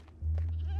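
A goat in Minecraft bleats once, a short, close, nasal cry that starts abruptly after a faint moment and holds steady through the end, with no other sounds around it.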